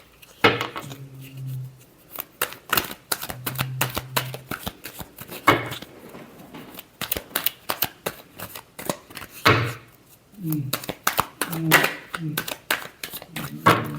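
Tarot cards being shuffled in repeated quick riffling bursts, crisp papery flutters close by, with someone speaking between and over the shuffles.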